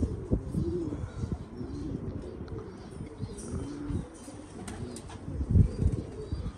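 Pigeons coo softly at a rooftop loft, low murmuring calls repeating over faint background noise, with occasional wing flaps and small chirps.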